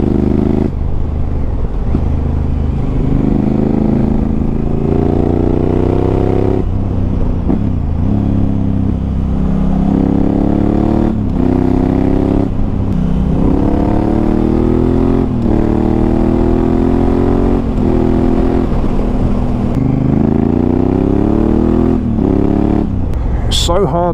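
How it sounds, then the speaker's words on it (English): A Honda Africa Twin motorcycle engine pulls hard along a sunny country road, its loud, close drone climbing in pitch through repeated accelerations and gear changes for the whole stretch. "So hard not to just keep accelerating when the bike sounds this good."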